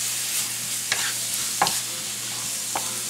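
Small onions sautéing in a pan, a steady close sizzle with a few distinct scraping stirs spaced through the stretch.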